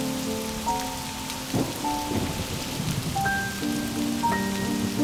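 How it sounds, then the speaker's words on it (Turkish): Steady rain patters and hisses in a continuous wash, with occasional low rumbles like thunder, under sustained tonal notes resembling a soft musical score. "zaten yağmur yağıyor"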